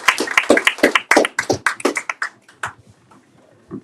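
Applause from a live audience at a teach-in on police repression, a burst of many hands clapping that starts dense and loud, thins out after about two seconds and trails off into a few scattered claps.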